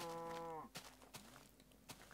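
A cow moos in a video game, one sustained low call at the start that fades out, followed by sparse soft game noises.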